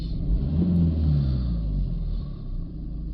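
A BMW 318d diesel engine is revved up and down, with a close, loud rumble rising into a throaty climb and then falling back to a lower drone.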